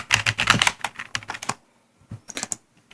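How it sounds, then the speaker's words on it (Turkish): Close, rapid computer keyboard typing with mouse clicks during a Minecraft gaming session recorded on a phone, a burst of quick clacks that pauses and then resumes in a short run of clicks. "Klavye mouse sesi biraz çok geliyor."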